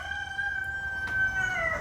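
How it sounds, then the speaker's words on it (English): A pet rooster crows nearby in one long, clear, drawn-out call, loud and alone with no talking over it. "that's my rooster, and he likes to chime in"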